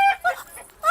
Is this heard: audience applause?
no